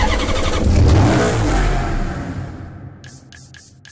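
Mercedes SLR with a V12 engine in the racing game Need for Speed Hot Pursuit, revving loudly through a sustained roar for over two seconds, then fading and easing off with a few sharp mechanical ticks near the end.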